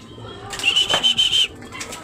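A racing pigeon lands with a short burst of rapid wing flaps, close and fairly loud, lasting under a second, with faint background noise around it.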